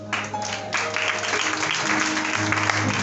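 A church congregation applauding at a Sunday service, a dense, steady wash of clapping from many hands that fills the room for about three seconds.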